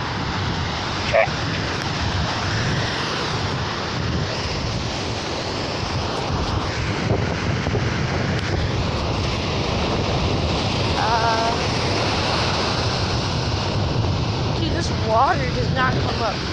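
Ocean surf rolls and washes steadily with wind buffeting the microphone, a continuous roar with faint bird-like chirps now and then.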